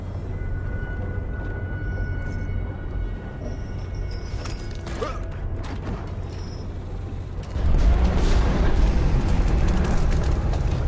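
A grenade goes off in a Gears of War 4 firefight, bursting into a loud, deep rumbling blast that follows a stretch of lower mechanical noise and faint clanks, then holds as a heavy roar.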